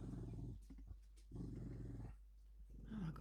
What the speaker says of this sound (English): Guys, stop barking.